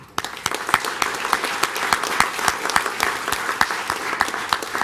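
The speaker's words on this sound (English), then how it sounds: "So I want you to stand and give them a round of applause." An audience at a construction and welding certificate ceremony applauds, a dense, steady round of clapping from a crowd that continues for several seconds.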